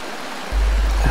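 Very fast flowing stream water, a loud dense rushing roar that swells abruptly midway and continues steadily, close by.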